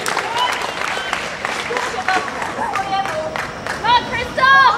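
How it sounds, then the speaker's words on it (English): A powerlifting audience claps and cheers for a deadlifter at an IPF meet, loud crowd applause mixed with shouts and whistles, and a voice calling out over the noise. "Give a round of applause"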